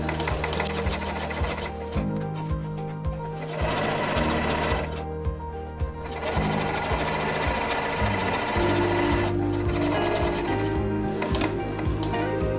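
Close, loud whirring of a sewing machine top stitching a curved seam on a baker boy cap, running in several stop-start bursts with brief pauses between runs.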